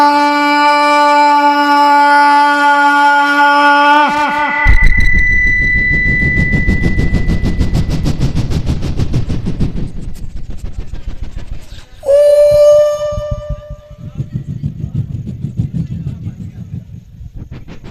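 A voice imitates a train crossing a bridge, starting with a tonal whistle and then a rhythmic, rumbling clatter, with a second whistle-like cry partway through, loud and close.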